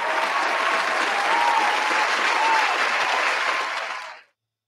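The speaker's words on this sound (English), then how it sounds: "We give a round of applause for our returning patrons." Steady applause from a theater audience, dense and sustained for several seconds before stopping abruptly.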